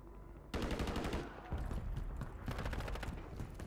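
Rapid automatic gunfire from the Call of Duty: Warzone battle royale game, loud bursts of shots starting abruptly and continuing in quick rattling volleys.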